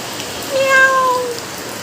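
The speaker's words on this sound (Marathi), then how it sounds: "मोठा पाऊस आलेला आहे" Steady hiss of heavy rain pouring down around a house in Kudli, Guhagar, Ratnagiri, Maharashtra, with a single drawn-out cat meow rising above it midway.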